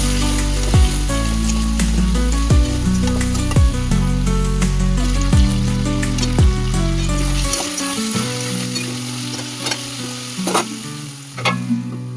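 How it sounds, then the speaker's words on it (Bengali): Meat sizzling in a hot pan in a home kitchen, a loud, steady frying hiss with tonal ringing and sweeping tones layered over it, cutting away about two-thirds through to quieter clinks and faint background tones. "মাংসটা বসিয়ে দিয়েছি"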